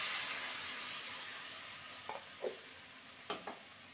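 Spices and ground spice paste frying with ridge gourd in a pan, a soft steady hiss with a few short scrapes of the spoon near the end, fairly quiet.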